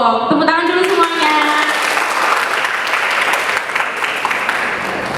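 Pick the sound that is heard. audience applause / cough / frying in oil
audience applause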